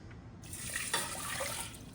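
Water runs from a tap into a saucepan already holding farro for cooking, a steady splashing stream that starts abruptly after a quiet moment and continues at moderate loudness with no talking.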